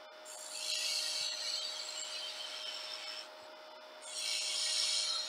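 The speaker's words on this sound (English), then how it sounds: "On the headstock end here, I'm going to use a parting tool and I want to turn a tenon." Parting tool cutting a tenon into wood spinning on a lathe: a steady scraping rasp in two sustained passes with a brief lull between, close and moderately loud over a constant machine hum.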